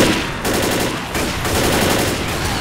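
Rapid pistol gunshots from the zombie shooter game Left 4 Dead, a dense run of close, loud cracks over continuous game noise, with no voices.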